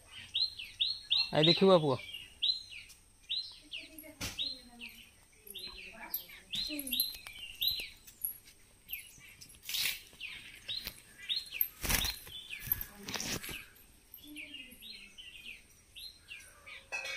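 Baby birds in a nest chirp in rapid, repeated high calls, close and fairly loud, with a few knocks and rustles and brief speech in between.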